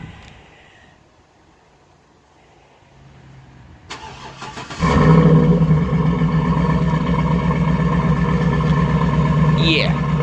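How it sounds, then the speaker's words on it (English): A 2008 GMC Sierra Denali V8 truck engine cranks and catches, then settles into a loud, steady, deep idle that carries on without pause. "I love the way this engine sounds."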